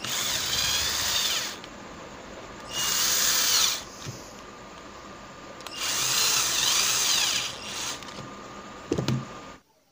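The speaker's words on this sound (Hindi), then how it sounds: "और वापस इस पर स्क्रू टाइट कर देते हैं।" A power drill driving a screw back in while reassembling a DC room cooler water pump, whining in three sustained bursts with pauses between, close and loud, no talk.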